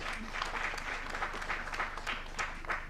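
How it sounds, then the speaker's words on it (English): Steady audience clapping fills the room at a Kenyan climate-governance campaign launch, a dense, even patter of many hands running throughout with no pause, near and moderately loud. "Let's clap for him."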